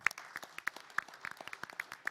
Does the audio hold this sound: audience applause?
yes